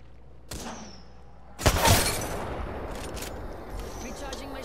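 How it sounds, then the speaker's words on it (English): A sharp, loud gunshot burst in the Apex Legends video game after a fainter crack, followed by a decaying noisy tail and a lingering low rumble. "They're shooting at me."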